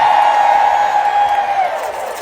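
Loud crowd cheering and whooping at a comedy show, a sustained roar of voices from a packed audience that swells and then tapers slightly toward the end.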